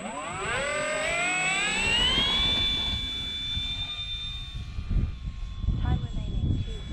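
A Dynam Hawker Hurricane V2 RC model plane flies overhead in wind, and its electric motor whine rises steadily in pitch before it levels off and fades. Gusty wind noise follows, and a voice talks underneath.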